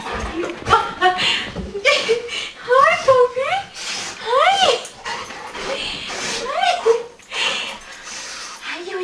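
Golden retriever whimpering and crying in rising, pitched yelps as its owners come home, repeated through the clip close to the mic, mixed with the owners' excited talk and light laughter.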